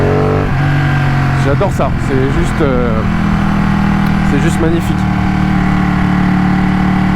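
A Ducati 1199 Panigale S twin-cylinder engine idles steadily and rises in brief revs, heard close and loud beneath continuous talk from the rider.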